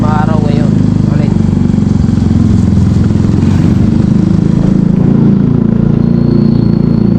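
A motorcycle engine runs close by with a loud, steady low drone and a faint clatter, and voices sound partly over it.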